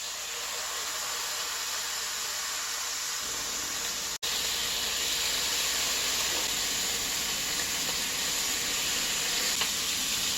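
Bacon strips, eight pieces, fry in a pan for an Irish Dublin coddle, giving a steady, loud broadband sizzle that continues throughout, briefly cut off by a short gap near the middle.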